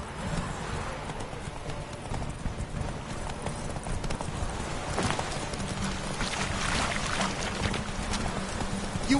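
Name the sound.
horse Roach galloping in video game The Witcher 3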